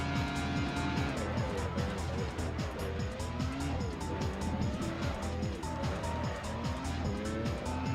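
Ferrari Formula 1 car on a practice lap in an early-2000s racing video game: a continuous, loud, high engine whine rising and falling with gear changes, with tire squeal over it.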